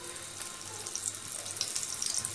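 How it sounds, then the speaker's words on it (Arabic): Flour-coated eggplant fries in hot oil with a steady, hissing sizzle full of small crackles, close and moderately loud, with no voice over it. "دلوقتي هنزل بقى بيه على الزيت وهو سخن"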